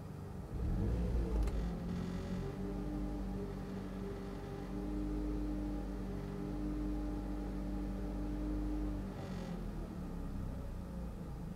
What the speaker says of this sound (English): I've restarted the engine after doing the shift fork teach-in